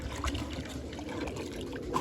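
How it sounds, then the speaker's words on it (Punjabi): Water poured into a pigeon's drinking pot at a loft, a soft steady trickling and splashing running throughout, fairly quiet and close, with no talk over it. "ਪਾਣੀ ਆਪਾਂ ਧੋ ਕੇ ਪਾ ਦਿੰਨੇ ਆ"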